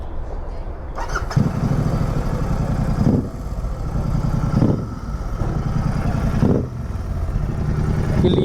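A motorcycle engine revs repeatedly at close range, each throttle blip rising into a loud roar before dropping back to a rumbling idle, about four surges in all.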